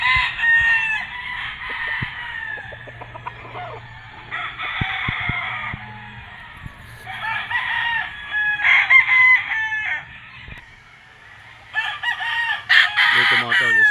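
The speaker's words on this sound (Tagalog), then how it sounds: "isang lacy roundhead class AB dyan mga tol" A lacy roundhead gamefowl rooster at a game farm crows repeatedly, loud and near, over clucking from other fowl, with a person talking faintly in the background.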